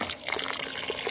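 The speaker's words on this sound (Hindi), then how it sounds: "उस वक़्त तक आपने दाल को अच्छी तरह से धोना है" Lentils (dal) are swished and rinsed in water for haleem, with a short, close sloshing and splashing of liquid.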